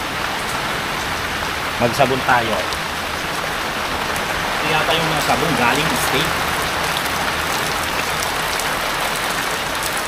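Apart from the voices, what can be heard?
rain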